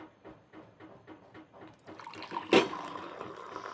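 Tea being poured from a vessel in a home kitchen on a morning with masala dosa breakfast, a short burst of splashing liquid that swells to a bright, close pour near the end, with faint household sounds before it.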